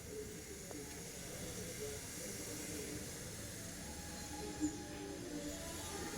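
Mustard and cumin seeds frying in hot oil in a kadai give off a faint, steady sizzling hiss, with only a few soft pops rising above it.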